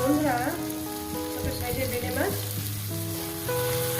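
Bele fish with potato and onion fries in a pan with no water added, giving a steady close sizzle over a continuous tonal background.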